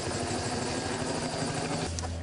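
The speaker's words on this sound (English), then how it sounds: "wildlife employee Jeff Westerfield load the helicopter with supplies for the mission" A helicopter used by a wildlife division for an aerial raccoon rabies program, its rotor giving a steady rhythmic thumping over an engine drone, loud and close, with the pitch dropping near the end.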